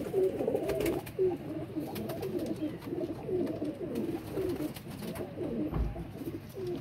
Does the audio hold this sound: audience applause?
no